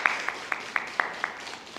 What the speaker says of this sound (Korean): 우리 김소미 장학사님께 다시 한번 큰 박수 부탁드립니다.